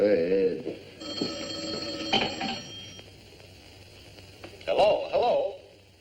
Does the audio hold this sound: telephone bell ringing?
yes